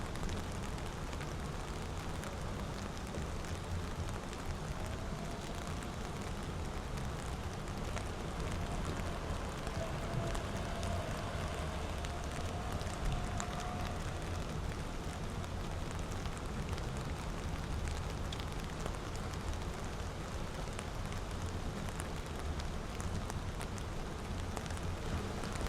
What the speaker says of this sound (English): Just enjoy the sounds of the rain and the sights of Disney.